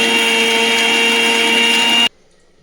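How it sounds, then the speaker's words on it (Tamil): Mixer grinder grinding soaked tamarind for rasam; a loud, steady high-pitched motor whine for about two seconds that cuts off abruptly, leaving near silence. "புளி ஊறின பிறகு மிக்சியில் போட்டு அரைச்சி வடிகட்டி எடுத்துக்கோங்க."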